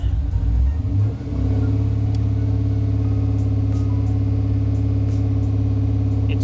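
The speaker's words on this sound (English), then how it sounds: "But if I go and rev it up," A third-generation Camaro with a supercharged LSA V8 idles with a deep rumble, then climbs into a steady sustained rev that holds loud and close for several seconds.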